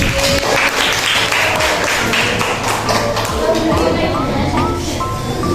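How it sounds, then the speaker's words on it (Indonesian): A classroom of students claps for a classmate, a dense, continuous patter of many hands that fills the room, with children's voices murmuring underneath. "Oke, tepuk tangan dulu buat Sisil."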